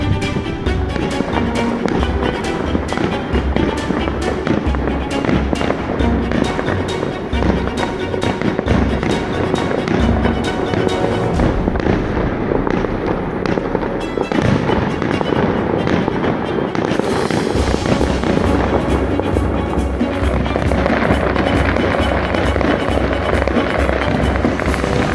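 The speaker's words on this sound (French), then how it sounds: "tu as eu le droit au deuxième feu d'artifice" Fireworks display at Bar-le-Duc, a dense, loud barrage of booms and crackling bursts that keeps going without a break, with heavy low rumble all the way through.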